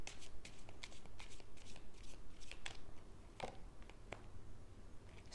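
Tarot cards are riffled and shuffled by hand, a steady, close, soft rhythmic flutter of card edges, followed by a few sharper flicks and snaps as single cards are pulled from the deck.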